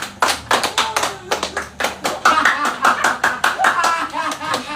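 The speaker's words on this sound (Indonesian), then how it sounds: "Tepuk tangannya yang meriah" An open mic stand-up comedy audience applauds with loud, dense, lively clapping, and a few chuckles are mixed in throughout.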